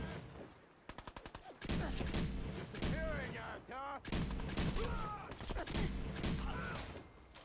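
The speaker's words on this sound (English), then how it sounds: "I just turned him into goo by shooting Nuka-Cola at him" Nuka-Cola gun firing in Fallout 4, heard as a rapid burst of gunfire early on followed by repeated blasts and whooshing, squelchy effects amid game noise.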